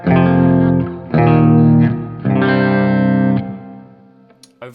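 Electric guitar through a Line 6 Helix hall reverb set to a low decay: three loud sustained chords, each ringing with a short, roomy tail, then fading to near silence with a few faint clicks at the end.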